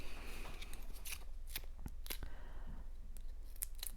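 Scissors snip through paper card stock in a run of short, crisp cuts, close and fairly quiet, with faint handling rustle between the snips while a snowman pop-up card is assembled.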